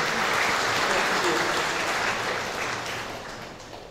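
A church congregation at a funeral service claps together in a dense burst of applause that fills the room and then gradually fades toward the end.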